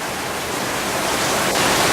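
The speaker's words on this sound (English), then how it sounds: "Yay, it's raining really hard." Steady, dense hiss of heavy rain pouring down continuously, close and loud, with no voices.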